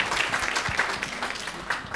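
An audience in a conference hall gives a brief round of applause for a speaker, steady dense clapping throughout.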